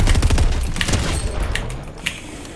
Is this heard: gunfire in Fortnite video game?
yes